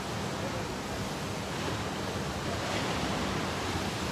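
Ocean surf washes steadily onto Kabudarama beach in South Goa, a continuous even hiss of breaking waves and wind, with no distinct voices.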